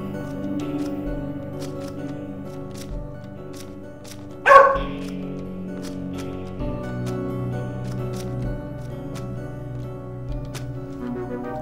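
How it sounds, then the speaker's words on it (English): A pet dog gives a single sharp bark, close and fairly loud, over steady background music from a game. "Cooper, my dog's barking at me."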